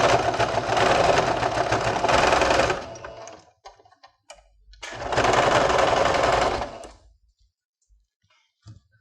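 A sewing machine stitches fabric closed for a kitchen craft piece, running in two steady bursts of a few seconds each with a short pause and scattered clicks between them, close and loud with no talk.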